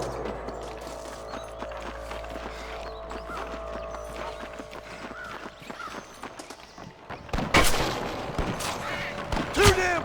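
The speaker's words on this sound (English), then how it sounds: "I can hear more gunshots." Sharp gunshots crack in rapid bursts near the end after a stretch of rhythmic clattering and mechanical noise, loud and close, in the video game Red Dead Redemption.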